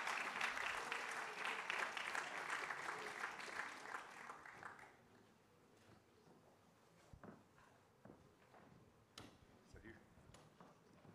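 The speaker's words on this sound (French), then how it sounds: "Vous pouvez les applaudir, merci à eux." Conference audience applauding after panel speakers are introduced at a geopolitics event on the US elections, a dense patter of clapping for about five seconds that then thins out to scattered claps and small noises.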